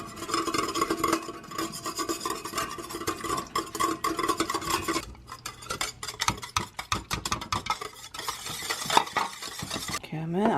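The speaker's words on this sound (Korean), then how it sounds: "계란하고 우유를 넣고 먼저 섞어줘요" A utensil whisks eggs and milk briskly in a bowl for pancake batter, a steady scraping, clinking stir that turns into quicker, choppier strokes partway through.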